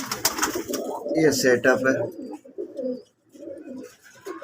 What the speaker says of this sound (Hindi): ये जो कबूतर है ये लाल दुबास